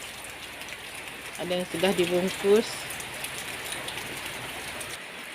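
Rain falls steadily on a rural house yard in the late afternoon, a constant close hiss of drops beneath a short spoken remark from a woman.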